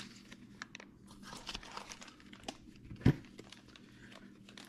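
Small plastic parts bags from a stage 2 Whipple supercharger kit crinkle and rustle quietly up close, with intermittent crackles and one louder crunch near the middle.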